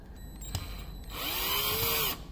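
A cheap cordless power drill revs up and whines steadily for about a second as it drives a fastener in on wrestling ring ropes, then stops; a faint click comes before it.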